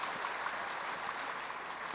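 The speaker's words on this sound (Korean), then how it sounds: "우리 하나님께 감사와 박수 드립시다" A church congregation claps together in a steady, even wash of applause that holds at moderate loudness without a break, with no one speaking over it.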